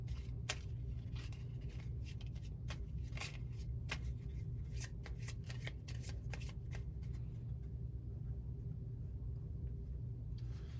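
Arsenal cards for the Puzzle Dungeon board game are shuffled in repeated quick riffles and snaps, close by and fairly quiet, over a low background rumble.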